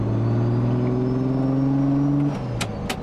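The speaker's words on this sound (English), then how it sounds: "I'm just tickling the throttle at this stage and the car just wants to go" A restored 750 bhp Mark 2 VW Golf GTI with a VR6 engine idles with a loud, steady low drone under light throttle. It holds even for over two seconds, then the note drops as the throttle eases off, with a couple of short sharp sounds near the end.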